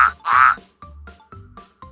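A frog croaks in a series of short, sharp calls, loud and close: one long call, then several brief croaks evenly spaced.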